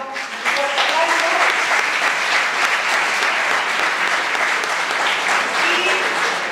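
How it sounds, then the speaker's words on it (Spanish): An audience at a Christmas carol gathering in a church breaks into loud, sustained applause, dense clapping holding steady for several seconds with voices mixed in. "Un fuerte aplauso."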